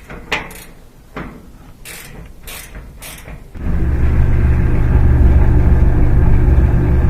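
A Whirlpool dryer drum, freshly fitted with a new belt, starts up after a few creaks and clicks of handling, then settles into a loud, steady low rumble of spinning that continues to the end.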